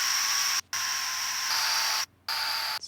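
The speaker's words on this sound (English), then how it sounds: "Noise texture." A noise texture layer in a music production, a steady bright hiss like static that runs loud and even, cut by two brief silent gaps before resuming.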